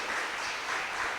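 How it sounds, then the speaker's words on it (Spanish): Congregation clapping together in a church service, a dense, steady wash of applause filling the room for a brief moment with no voices over it. "Dele una ofrenda de palmas al que vive y reina por los siglos de los siglos."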